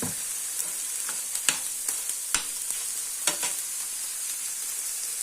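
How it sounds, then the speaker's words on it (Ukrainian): Onions frying in oil in a pan for a home breakfast, with a steady faint sizzle broken by scattered clicks and scrapes of stirring, no voices. "Трошки підсмажимо. Туди ще олії потрібно додати."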